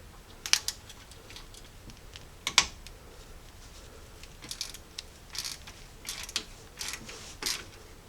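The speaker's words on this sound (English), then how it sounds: "So I'm going to get this out with the 8mm." A Jeep 4.0L engine bracket screw is worked out with an 8mm socket, giving faint scattered metallic clicks and ratcheting taps at irregular intervals against a quiet background.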